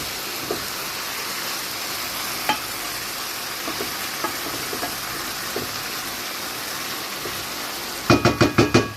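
Chicken pieces frying in oil in a home kitchen give a steady sizzle with scattered pops and knocks, ending in a quick run of sharp clattering taps near the close.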